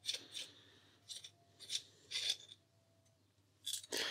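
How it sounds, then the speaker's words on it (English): A 5mm Allen key turns the hammer spring adjuster out of an AGT Uragan 2 air rifle, making short, quiet metallic scraping and rasping bursts separated by near silence. "we can remove the hammer spring adjuster using a 5mm Allen key"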